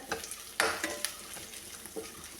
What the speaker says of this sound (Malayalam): പതുക്കെ ഒന്ന് ഇളക്കി കൊടുക്കാം ഒന്ന് വാടി വരട്ടെ കേട്ടോ